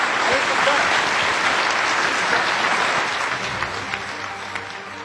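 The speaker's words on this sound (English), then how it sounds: "I would like the crowd to give these two gentlemen a huge round of applause for doing this today" Loud, sustained applause from a luncheon crowd at a Rotary event for two gentleman speakers, a dense steady clatter of clapping that fades slightly toward the end.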